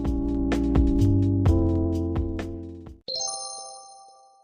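Phone call ringing tone: a series of bright chiming ring pulses repeating evenly, followed by a sharp switch to a higher steady beep as the call connects, clear and close with no talk.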